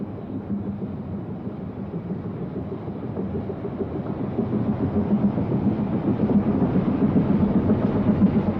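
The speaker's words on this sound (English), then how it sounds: "the mighty locomotive of the Brienz Rothornbahn Railway charges the mountain slopes" The aging Brienz Rothornbahn steam locomotive climbs a Swiss mountain slope with a continuous low rumbling chuff that swells gradually louder as it draws nearer, with no talk.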